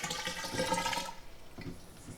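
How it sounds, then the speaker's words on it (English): Colored water gushes and splashes briefly into a container, loud at first and then tapering off into faint trickling. "What are you pouring in? water-colored water."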